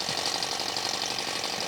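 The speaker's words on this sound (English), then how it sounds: "putting the engine to work, making it spin the blades" A small alcohol-fired Stirling engine drives a model helicopter's spinning blades, producing a faint, steady, rapid whirring buzz with an even mechanical rhythm throughout.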